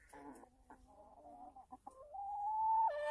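Hens on a farm clucking softly and calmly, a few short murmuring calls followed by a longer drawn-out tone, close by in a quiet setting with no talking.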